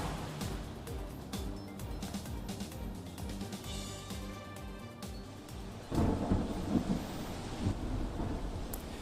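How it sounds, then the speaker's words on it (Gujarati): A pre-monsoon rain shower in Gujarat, with rolling thunder rumbling through the first part and then a steady, heavier wash of rain taking over. "હાલમાં જે વરસાદ વરસી રહ્યો છે તે પ્રી મોન્સૂન એક્ટિવિટીના કારણે આવી રહ્યો છે"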